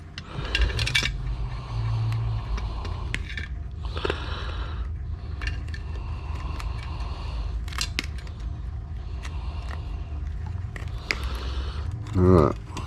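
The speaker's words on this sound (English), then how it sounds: "Let's get my cutters. Cut these wires off here." Wire cutters snip wires off a vintage computer board being scrapped for precious metals, giving a run of sharp clicks and metallic snaps with rustling handling and scraping between cuts, close and fairly loud, with one louder clatter near the end.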